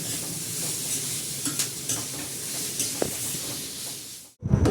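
Onions and chutney being stirred and roasted in a pan give off a steady sizzle under repeated scraping strokes, with a few louder clinks before a brief cut near the end.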